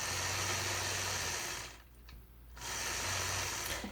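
A sewing machine quilts stitches along block seams on a quilt, with a steady close motor whir that briefly drops away before resuming.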